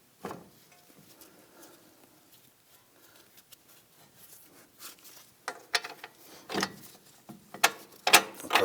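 Ratchet tightening the lower strut bolt during a front ball joint replacement on a 2001-2009 Volvo S60, heard as a few short, close clicking bursts with metallic handling noises in a quiet workshop.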